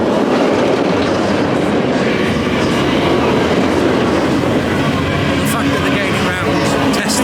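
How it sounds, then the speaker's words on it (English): An empty Nemesis roller coaster train on a test run at Alton Towers rumbles and clatters past, loud and continuous, with a rattling rush that barely varies. "it looks like a test run at the minute, it's an empty train"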